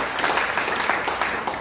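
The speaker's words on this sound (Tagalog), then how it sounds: "Lahat ng nakikinig magsabi ng Amen at pumalakpak ng kalakas sa ating Panginoon." Church congregation applauding during a Filipino healing service, a steady wash of clapping with no talk over it.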